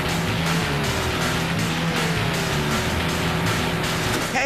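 A racing car engine from Need for Speed Underground 2 drones loud and steady, its revving pitch rising and falling as the car races, with no voices over it.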